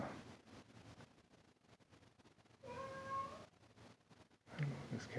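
A pet cat named Charlie gives a couple of moderate meows in the middle and again at the end, over faint outdoor background noise and wind.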